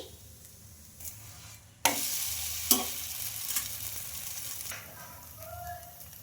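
Chapati dropping onto a heated pan, a sudden loud sizzle that settles into steady crackling hiss, with a couple of sharper pops as it cooks.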